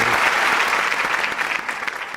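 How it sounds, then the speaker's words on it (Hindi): Studio audience applauding for host Mohsin Abbas on a Pakistani talk show, a dense, steady wash of clapping that holds loud throughout before easing slightly at the end. "मोहसिन के लिए तालियां।"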